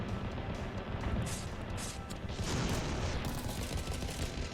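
Bombs dropped from a WW1 plane explode in the Ravenfield video game, a dense, continuous roar of blasts and crashing debris sustained throughout at steady loudness.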